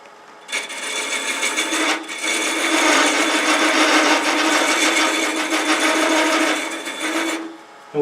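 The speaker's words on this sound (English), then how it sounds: "when you trim the size down, you're sneaking up on that lid" A wooden lid is trimmed down to size with a tool, giving a loud, close rasping grind that starts after a short pause, keeps going steadily for about seven seconds with one brief break, then stops.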